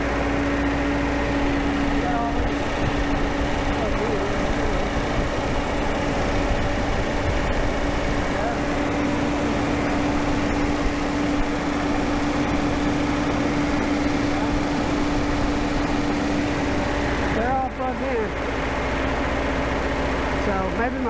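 A Datsun 280Z engine with newly installed fuel injectors idles steadily and a little high, a continuous even mechanical drone heard close and loud throughout, with a brief dip in level near the end.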